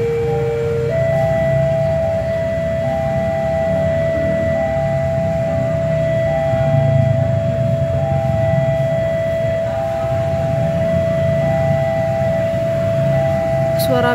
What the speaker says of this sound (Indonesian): Suara belnya kayak ada dua.